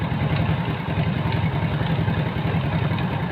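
A small engine with a sluggish oil pump runs steadily at idle, a continuous rumbling chug close by with no voices.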